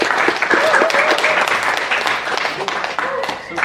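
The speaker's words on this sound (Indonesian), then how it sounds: "Tepuk tangan buat teman-teman tadi yang turun." Audience applause for student performers after a realist theatre piece, sustained clapping with a speaking voice running over it through much of the stretch.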